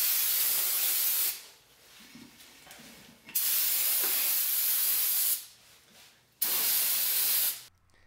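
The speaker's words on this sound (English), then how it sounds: "I spray them down with brake clean." Aerosol brake cleaner hisses in three loud, steady bursts of a few seconds each onto the brake rotors of a sixth-generation Toyota Camry, with quiet gaps and faint handling noises between them.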